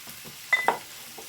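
Chicken for chicken kondattam being stirred in a frying pan: two brief scraping stirs over a faint background sizzle, close and fairly quiet, with no talking.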